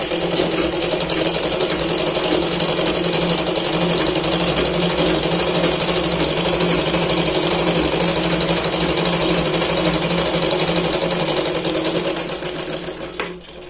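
A sewing machine stitches along the edge of a Punjabi dress sleeve, running steadily and fairly loud for about twelve seconds before easing off near the end, with no talk over it.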